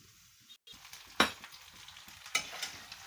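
Prawns frying in a pan over low to medium flame until roasted, a soft steady sizzle with a few sharp stirring scrapes standing out.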